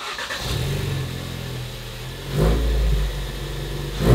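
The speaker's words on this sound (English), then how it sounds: "Let's start the car up, rev it a couple times" A car engine with a newly installed blow-off valve revs from idle, swelling in two loud surges close by with a steady mid-range rumble between them.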